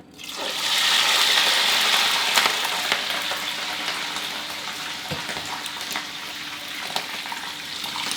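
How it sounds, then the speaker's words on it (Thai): Shrimp deep frying in hot oil in a pan, a loud steady sizzle and crackle that bursts in at the start and continues with small pops, close and without talk. "ร้อนได้ที่ก็นำกุ้งลงไปทอดได้เลยครับ"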